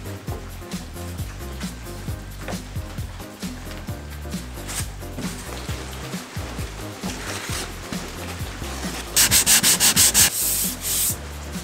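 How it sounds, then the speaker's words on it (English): A boat hull being sanded by hand, with continuous rhythmic scraping and rubbing strokes, steady and close, growing harsher and brighter in a burst of quick strokes near the end. "It was 50 plus hours of sanding."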